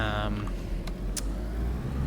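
Engine of a Vodnik armoured vehicle in the DayZ game, a steady low rumble that runs throughout and sits close and fairly loud, with a brief tonal sound at the very start.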